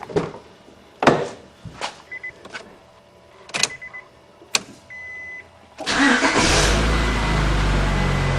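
A Honda Accord VTEC engine, just fitted with a new timing belt, cranks and fires up after a run of separate clicks and clunks, then settles into a loud, steady rumble.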